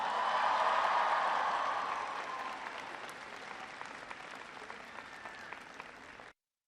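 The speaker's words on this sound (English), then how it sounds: "Give them a round of applause." An audience at the University of Michigan applauds members of Congress during an Obama speech, a sustained crowd clapping that starts loud and gradually thins before cutting off.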